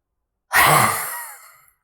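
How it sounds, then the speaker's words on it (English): One deep, audible breath during a fire element yoga session: close and fairly loud, a long, breathy sigh-like exhale that fades gradually, with no talking. "Deep breath in."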